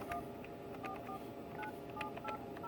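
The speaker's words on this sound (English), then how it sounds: "So I will make a phone call" A series of touch-tone beeps comes from keys pressed on a desk phone, heard as short evenly spaced tones over a steady low background hum, with no talking.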